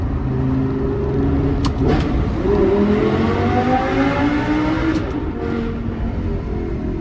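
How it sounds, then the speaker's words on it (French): An Audi R8 with a naturally aspirated V10 revs loud and close, its engine note climbing and falling through repeated sweeps with a sharp snarl, no voices. "V10 Atmo, un bruit vraiment de fou."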